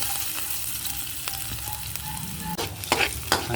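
Garlic frying in a pan for Ilonggo-style buttered garlic shrimp, a steady close sizzle with occasional clinks and scrapes of stirring, no talking.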